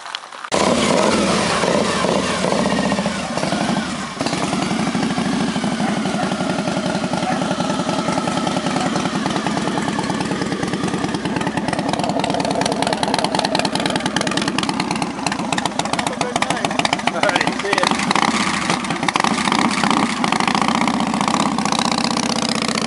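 A Sportster motorcycle engine fires up and settles into a steady, throbbing idle, loud and close for about twenty seconds with small shifts in pitch.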